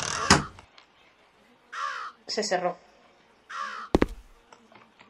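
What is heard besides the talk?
crow cawing in the video game Root of Evil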